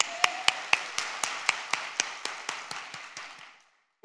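A congregation at a Pentecost revival service at a prayer retreat claps in steady unison, about four sharp echoing claps per second for over three seconds, then stops.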